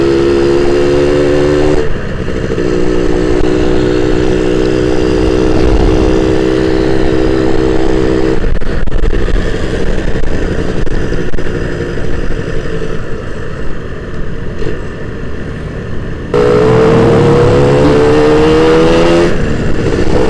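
A Suzuki Satria 120 R two-stroke motorcycle revs loudly and close, its buzzing engine pitch rising and falling through repeated throttle pulls with a short, quieter stretch before it climbs again.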